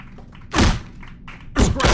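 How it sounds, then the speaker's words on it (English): Two heavy punches land in a PvP bout of the Creed: Rise to Glory boxing video game, each a loud, close, broadband thud with a short crunchy tail, about a second apart. "Delivering an absolutely devastating blow to his opponent"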